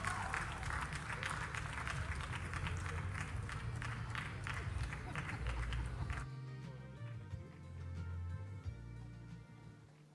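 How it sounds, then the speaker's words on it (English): A hall audience at a media awards ceremony gives a big round of applause. The dense clapping carries for about six seconds, then thins out and fades away. "Shall we congratulate him with another big round of applause?"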